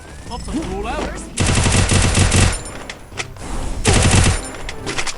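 Rapid automatic gunfire from the video game Free Fire rattles in two loud sustained bursts, and a player's voice talks over the start.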